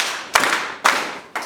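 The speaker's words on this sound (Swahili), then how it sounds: "naomba tumrudishie Mungu utukufu kwa kupiga makofi mara 3" A church congregation at a Moravian service in Tanzania claps in unison three times, each clap a sharp, loud burst spaced about half a second apart, with no voices in between.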